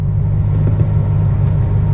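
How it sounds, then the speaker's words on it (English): A C4 Corvette with an LT1 engine and Optispark ignition idles right after starting, giving a steady, loud low rumble with a slight uneven pulse throughout. "The car started"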